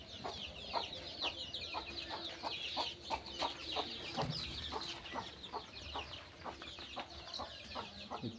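Native hens in a chicken coop cluck in short, repeated bursts, fairly faint and moderately close, with a steady rhythm of calls and no talking.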